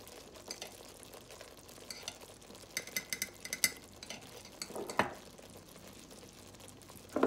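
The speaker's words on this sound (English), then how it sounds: "And we're gonna mix that in." Ground coriander and roasted cumin are stirred into a red Indian curry in a pan, giving a soft steady sizzle with scraping and clinking of a spoon against the pot, a few sharper knocks standing out.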